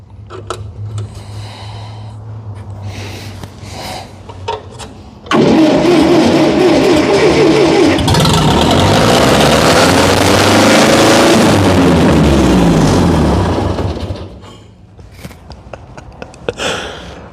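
A Ferguson TO-35 tractor with a previously seized engine is cranked, then catches and runs loud and rough, climbing in revs before dropping back and cutting off, with brief clatter and knocks before and after.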